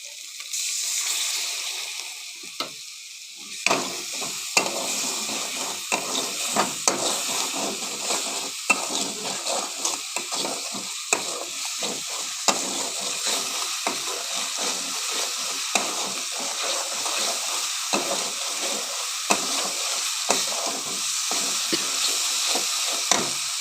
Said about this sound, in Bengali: সুন্দর করে এটাকে আমি কষিয়ে নেব